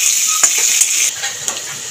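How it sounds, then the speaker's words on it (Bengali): Cut potatoes stirred and frying in a pan over tempered spices for a Bengali pumpkin-and-potato curry: a steady bright sizzle with a few sharp utensil scrapes and clinks against the pan. "আলুগুলোকে একটুখানি নেড়ে ছেড়ে ভাজতে থাকবো।"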